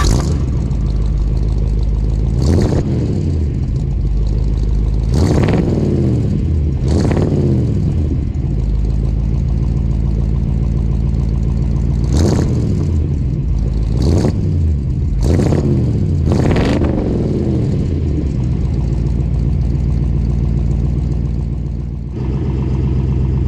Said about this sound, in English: If you could smell that exhaust, man, she is running rich.